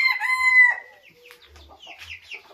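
A white rooster gives a loud, close crow, followed by softer clucks from chickens in a backyard flock.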